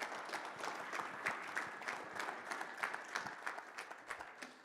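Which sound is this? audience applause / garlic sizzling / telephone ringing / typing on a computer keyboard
audience applause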